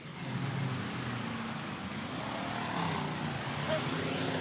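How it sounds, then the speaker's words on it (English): Van racing in a trailer race of destruction at a dirt track event, a continuous roar of racing engines heard from a distance, steady with slight swells as cars pass. "The Ziegler van plowing his way through."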